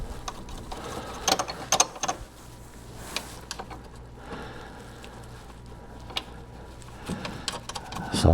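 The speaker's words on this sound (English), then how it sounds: "So I'll tighten them down. It's 10 millimeter." A 10 mm ratchet tightens the battery hold-down bolts on a 2018 GMC Terrain, giving faint bursts of quick mechanical clicking close by over a low background hum.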